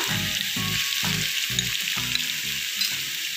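Onions frying in a hot pan after garlic, a steady loud sizzle with rhythmic bursts as they are stirred, close up and without any voices.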